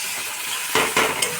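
Masala with tomato fries in a pan for a Bengali khalse fish curry, a steady close sizzle with a few brief scraping stirs swelling out of it, and no voices.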